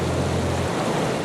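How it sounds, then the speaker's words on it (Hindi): Steady broadband rush of a waterfall pouring into deep water, loud and close, a continuous roar that shifts slightly as a low hum drops out partway. "ये झरना कितना अच्छा लग रहा है नहीं?"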